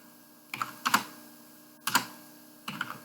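Keys tapped on a computer keyboard while entering an MS-DOS find command, arriving in short close clusters of clicks with pauses between bursts, in a quiet room with no speech.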